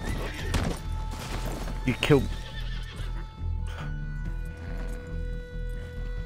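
A horse in the video game Red Dead Online neighs and whinnies loudly with clip-clopping hooves, over steady game background sound, while a player talks.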